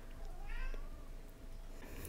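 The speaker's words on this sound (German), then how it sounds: "Falls ihr im Hintergrund Katzengejammer hört" A cat meows in the background of an indoor room, giving one drawn-out, wavering meow near the start followed by fainter, softer mews, with no speech over it.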